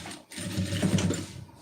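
A sewing machine runs a short continuous stitch along a garment's neck piece, a close, even mechanical whir lasting under two seconds.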